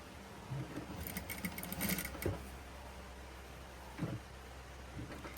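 A sewing machine stitches a princess-cut saree blouse in short, faint bursts of running stitches, with a pause and then a brief final burst, all quiet and close.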